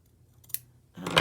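Scissors snip thread on a hand-stitched fabric pouch: one quiet close click, then a louder crisp cutting snip near the end, with no talking.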